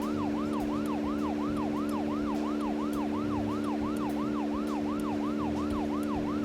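A video game police siren cycles in fast, regular rising and falling wails, loud and unbroken throughout, over a constant low engine drone with no voices.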